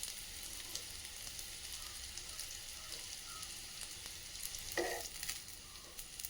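Stuffed bitter gourds fry in a pan as they are turned, a soft, even crackling sizzle with faint clicks of the pieces being moved, heard alone without voices.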